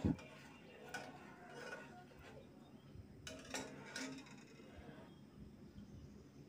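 A spoon stirs condensed milk into a bread rasmalai mixture in a bowl, making faint scattered clinks and soft scraping against the quiet room background.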